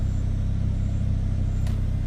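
A warmed-up car engine with a fresh ECU tune runs close and loud, a dense, steady low drone over about two seconds.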